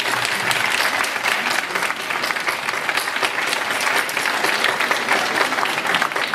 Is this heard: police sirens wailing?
no